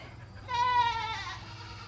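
A single nearby goat in a goat pen lets out one loud, wavering bleat lasting about a second, over a quiet background hum.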